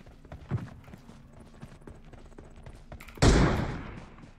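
Gunfire in the PUBG Mobile shooter game during a headshot attempt: a faint muffled thump early on, then one loud, sharp, close shot that rings out and decays over a second, set against a low steady game hum.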